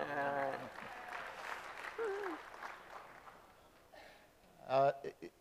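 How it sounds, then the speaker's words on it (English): Applause from a crowd builds into a broad wash of clapping, with voices talking over it and a louder burst near the end. "Let's hear a round of applause"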